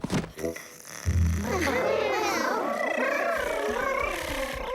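Children at a school fair imitate tigers purring, their voices making a continuous wavering, rolling purr-like hum that runs for several seconds after a brief burst of noise.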